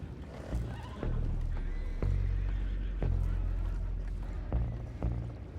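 Horses neigh and whinny in Red Dead Redemption 2 at Beaver Hollow, with hooves clip-clopping beneath several repeated whinnies, fairly close against a busy background.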